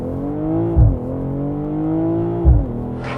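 BMW M440i Gran Coupe launching hard under launch control, a smooth rising engine note with two brief gear-shift dips and thumps, close and steady.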